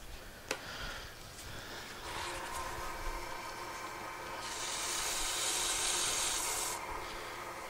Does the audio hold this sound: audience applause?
no